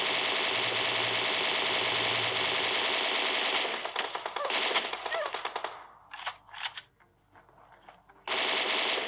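A Beryl rifle fires in PUBG: long, rapid automatic bursts at high volume, then shorter broken bursts with gaps, and a final sustained burst.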